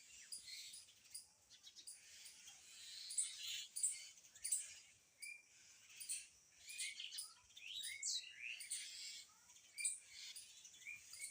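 Many birds call in agitated alarm in a mango tree where two cats have climbed, a dense overlapping chorus of sharp chirps and tweets, some close and loud, continuing throughout without speech.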